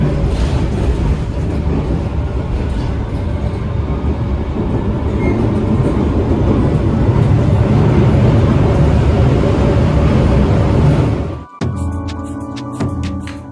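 Steady loud rumble of a tram rolling along rails in Sofia, Bulgaria, with rattling wheels and a brief drop before a quieter, clanking stop near the end.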